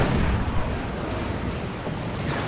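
Lascannon shots fire in a Dawn of War 2 battle, dense rumbling blasts and booms that run continuously and loudly as one heavy wash of gunfire.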